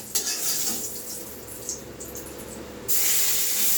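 Whole garam masala spices, bay leaves and dried red chillies hit hot oil for khichuri, giving a bright, steady sizzling hiss close by that swells louder near the end.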